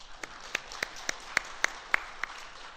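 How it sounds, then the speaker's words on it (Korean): Sparse, faint handclaps in a church after an Angels choir performance, a handful of separate claps spaced irregularly over a quiet background. "우리 오늘 찬양해 주신 우리 엔젤스 찬양대에게 한 번 더 박수 드리겠습니다"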